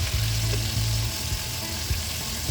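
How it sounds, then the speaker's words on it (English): Oxtail pieces browning in hot oil in a pot for Jamaican oxtail, giving a steady, loud, dense sizzle and crackle with no talk. "I'm taking them out so I can add some more oxtail to the oil so they can brown"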